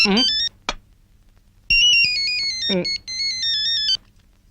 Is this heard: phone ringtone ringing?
yes